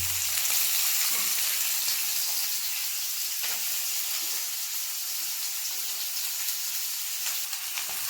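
Chopped onions fry in hot oil with a little cumin, a dense, even hiss of sizzling that stays steady and close throughout, with only faint occasional stirring.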